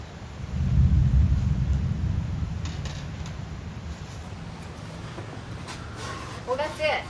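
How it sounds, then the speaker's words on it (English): Rain with a deep rumble of thunder, strongest early and easing off, heard outdoors as a broad steady wash. Voices come in briefly near the end. "Here comes the rain."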